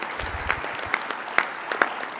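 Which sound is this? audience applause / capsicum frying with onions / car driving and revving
audience applause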